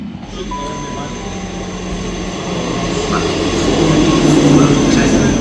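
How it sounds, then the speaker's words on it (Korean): A train rides toward Southampton Central station in England, making a steady rumbling roll that slowly grows louder, with faint voices in the carriage underneath. "저희 집에서 기차를 두 번 갈아타고요 사우스햄튼 센트럴역으로 향합니다"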